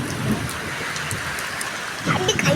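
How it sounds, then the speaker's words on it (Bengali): Steady rain falls during the first rainfall in six to seven months, a continuous broadband hiss that stays even throughout, with a voice briefly audible near the end. "বৃষ্টি না হয় মিনিমাম 6-7 মাস পর আজকে বৃষ্টি হচ্ছে।"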